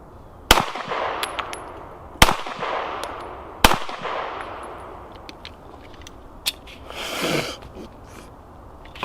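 Three sharp, loud gunshots from a Smith & Wesson M&P 1.0 pistol crack out at roughly one-and-a-half-second intervals, each trailing a ringing decay. They are followed by a few faint metallic clicks and a brief rustle.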